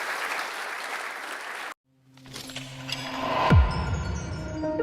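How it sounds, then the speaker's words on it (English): Conference audience applauding a specialist speaker, broad clapping that cuts off briefly then resumes and builds, with a sharp clap peak near the end and no talk over it. "So let's give him a round of applause."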